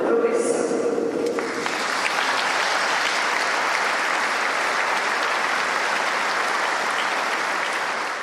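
Sustained applause from a large crowd at a memorial for a departed professor, dense and even throughout, starting after a few brief seconds of mixed noise and continuing strongly.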